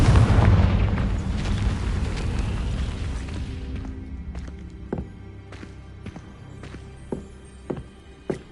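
The Confringo blasting spell explodes in the video game Hogwarts Legacy with a loud, heavy boom that rumbles and fades over several seconds, followed by sparse, sharp clicking steps.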